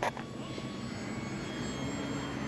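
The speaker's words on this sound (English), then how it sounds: "She's a good flying little airplane." A small radio-controlled bush plane flies overhead, its engine giving a steady, moderate drone that holds evenly throughout.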